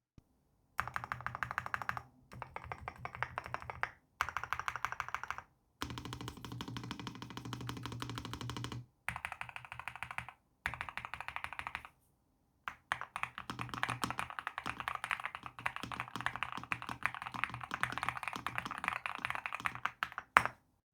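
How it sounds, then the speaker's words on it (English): Typing on a NuPhy Halo65 V2 keyboard fitted with Gateron Raspberry linear switches, close and crisp, with steady bursts of poppy keystrokes broken by short pauses and no voices. "The Raspberries have a great poppy sound to them."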